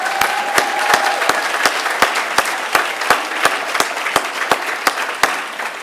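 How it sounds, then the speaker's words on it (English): Audience at a magazine honorees gala in an Atlanta club applauds the honorees: a steady wash of crowd clapping cut by sharp, evenly spaced claps in a quick rhythm, close and fairly loud. "help me give all of our honorees a big round of applause"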